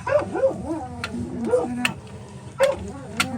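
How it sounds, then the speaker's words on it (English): Dog barking and yipping excitedly indoors at other dogs passing outside a truck camper, several sharp close barks in bursts with whiny yelps between them, fairly loud and alone. "Our dog's going nuts because there's dogs walking by."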